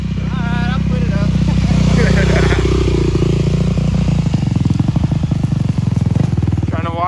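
Yoshimura-exhausted Honda pit bike engine running loud and close, a rough idle rising into revving with rattling mechanical clatter, while people talk over it.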